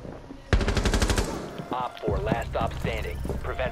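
Rapid automatic gunfire in Rainbow Six Siege, a loud burst of evenly spaced shots lasting about a second, followed by scattered game sounds and a voice talking.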